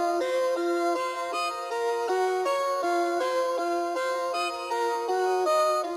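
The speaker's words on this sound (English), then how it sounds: "and then I threw an ARP on top, which sounds like this." A bright synth arpeggio from a trap rager beat plays alone, rapid repeating plucked notes in a steady bouncing pattern, creepy and clean with no voices or drums.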